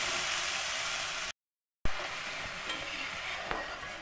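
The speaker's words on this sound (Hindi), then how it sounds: "हम अच्छी तरीके से भून लेंगे।" Ground coriander chutney fries in a pan with a steady hissing sizzle, briefly cut to silence, then resuming with a few scraping stirs.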